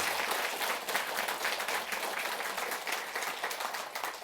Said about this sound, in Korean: 마지막으로 박수 한번 칠까요?